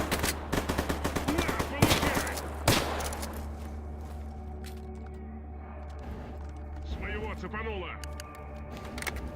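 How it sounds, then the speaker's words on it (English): Rapid video game gunfire crackles in quick close bursts, loudest at first and then thinning to scattered shots, while a voice talks over the firing. "Can you fucking die when I freaking put bullets in you?"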